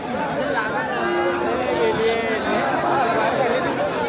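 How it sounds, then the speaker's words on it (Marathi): A large outdoor crowd at a bullock cart race fills the air with dense, steady chatter and babble, with a nearby person speaking over the murmur. "भरपूर गर्दी जमलेली आहे आणि आता बैल मांडत आहेत"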